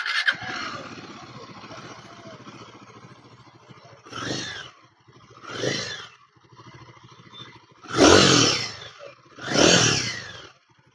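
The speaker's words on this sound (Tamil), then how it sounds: "இப்போ இந்த குரிலா 450 இந்த பைக்கோட எக்ஸாஸ்ட் நோட்டை செக் பண்ணி பார்த்துருவோம்" Royal Enfield Guerrilla 450 motorcycle idling with a steady thumping exhaust, then four short revs in quick bursts, the last two loudest and close by.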